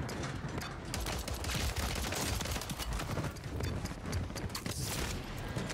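Rapid gunfire in Call of Duty: Warzone, with pistol shots among the exchange; dense, continuous cracking bursts at steady loudness through the whole stretch, with no talking.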